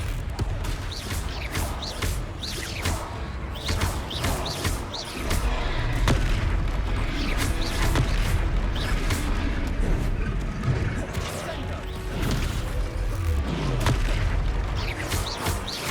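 Booming spell blasts crash through a troll battle in the Hogwarts Legacy game, a dense, continuous barrage of explosive hits layered over a steady combat rumble, with heavy impacts landing every second or so throughout.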